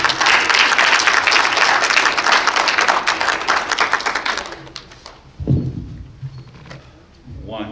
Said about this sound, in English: Let's encourage them by clapping our hands,